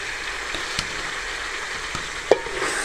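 Potatoes drop into a pan of mixed vegetables already sizzling, giving a steady close frying hiss with a few soft clicks and one sharper knock of stirring.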